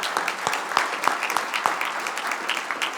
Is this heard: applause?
yes